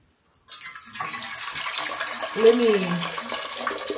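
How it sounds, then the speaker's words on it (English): Warm water runs from a tap, starting after a brief silence and building to a steady close gush for dough preparation, with a voice briefly speaking over it. "Let me get some more water going. I'm using warm water, so I'm gonna add that in there."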